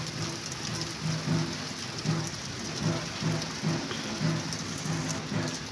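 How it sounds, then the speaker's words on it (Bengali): Heavy rain pours down steadily nearby, a dense, even hiss of drops with faint low rumbles beneath and no voices. "আবার ঝমঝমিয়ে বৃষ্টি শুরু হয়ে গেছে"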